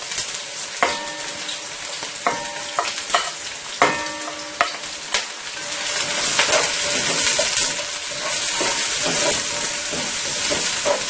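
Half of a two-cup portion of chopped onion sizzling and crackling as it hits hot oil for Guyanese-style fried squash with shrimp, with sharp bursts of spattering at first, then a steady, loud, close frying hiss throughout.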